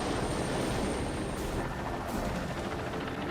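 Helicopter in the 1990 film The Hunt for Red October: a loud, continuous rotor and engine roar fills the scene without letup, dense and steady throughout.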